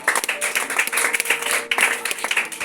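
A church congregation claps and applauds during a French-language worship service, a dense, steady patter of many hands filling the room at close range, rising and falling slightly without pause.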